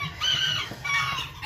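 Red Blue hen clucking close by, a few short rising calls in quick succession, loud and alone.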